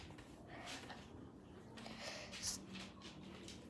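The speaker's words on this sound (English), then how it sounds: "Stop sniffing my toes." A dog sniffs at a person's bare toes up close, producing a few short, breathy sniff bursts spread across a few seconds over a quiet, low room background.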